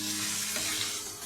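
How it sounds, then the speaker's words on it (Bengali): Mutton liver and potato fry gives a soft, steady sizzle in a wok with faint scraping of the stirring, close but quiet, lasting about a second. "এই যে আমাদের মেটে ফ্রাই হয়ে গেছে"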